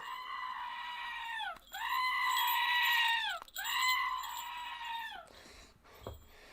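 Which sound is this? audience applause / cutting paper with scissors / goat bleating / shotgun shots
goat bleating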